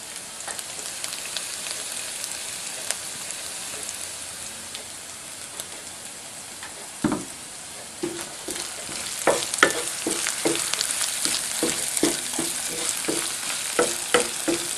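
Ginger, cumin seeds and asafoetida fry in ghee with a steady close hiss. Sharp crackling pops build and grow busier through the second half, with no voices.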